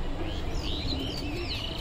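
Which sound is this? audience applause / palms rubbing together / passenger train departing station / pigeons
pigeons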